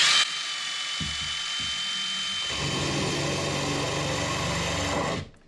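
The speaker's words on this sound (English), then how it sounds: "then I can elevate and walk that drill perpendicular and drill through the tile." A power drill bores freehand through porcelain tile: a steady high whine from the motor, with a grinding, chattering bite joining partway through, close and loud until it cuts off at the end.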